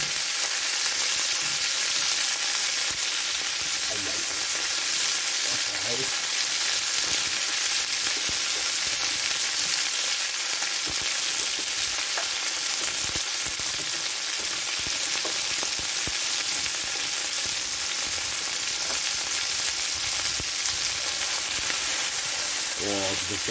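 Strips of steak for a Philly cheesesteak-style dish fry in a hot pan, a loud, steady, dense sizzle filling the whole stretch with occasional stirring scrapes and no speech.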